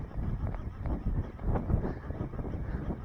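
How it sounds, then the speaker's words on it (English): Wind gusting outdoors during a fishing trip by a lake, buffeting the microphone in uneven, rumbling bursts that swell and fade over a few seconds. "The wind's picking up. I'm sure you can hear it."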